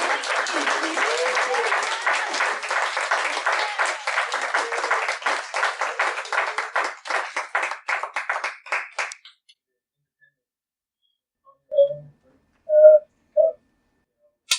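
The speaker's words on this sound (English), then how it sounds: "Let's give Jen a round of applause." An audience at a brain injury rehabilitation graduation ceremony applauds a graduate. Brisk group clapping with a few cheers fades to scattered claps after about nine seconds, then a brief silence before a few short voice sounds.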